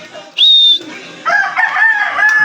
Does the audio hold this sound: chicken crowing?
yes